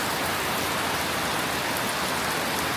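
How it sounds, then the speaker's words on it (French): Heavy rain pours down in a dense, steady hiss, loud and close, with no other sounds. "Grosse pluie."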